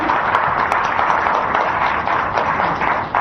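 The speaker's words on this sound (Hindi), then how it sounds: "कृपया तालियों से एक बार आप पुनः इनका आप अभिवादन करें" An audience applauds to honour a guest, the NDA president, at a public event: dense, continuous clapping that stays loud and even throughout.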